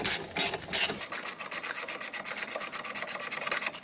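A wrench tightens the screws of a car brake caliper during a pad and disc change, making quick, rhythmic ratcheting clicks close to the microphone after a few louder scraping strokes.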